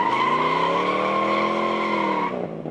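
A collector car launches with its tires burning rubber, a loud, sustained squeal with layered rising tones lasting over two seconds before cutting off into lower engine noise.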